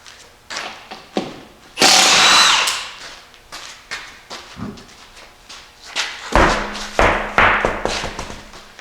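A power tool works on the driver's side wheel of a vehicle, with short bursts of whirring and a longer loud burst, mixed with clanks, thumps and knocks of parts being handled.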